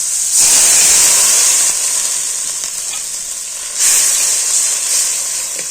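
Water hits a hot pan while cooking sweet potato and gime greens with turmeric, setting off a loud, steady sizzling hiss that swells twice, sounding close and alone.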